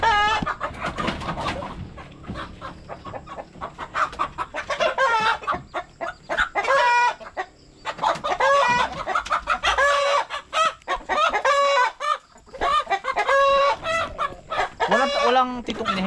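Hens cluck and cackle close by in a busy, uneven flurry of calls, with rooster-like crowing mixed in and short pauses between bursts, fairly loud throughout.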